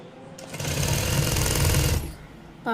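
A sewing machine stitches the two cloth pieces of a blouse sleeve together, running in one steady loud burst of dense mechanical whirring for about one and a half seconds before it stops.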